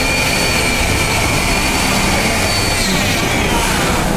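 A die grinder spinning a burr at 25,000 RPM carves into ice with a loud, continuous high-pitched whine over harsh grinding hiss. The noise holds steady and close for the whole stretch, with no speech.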